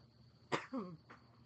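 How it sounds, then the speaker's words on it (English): One short, sharp cough close to the microphone, followed by a brief throaty vocal sound and a softer breath. "I'm sorry, that made me cough a little bit."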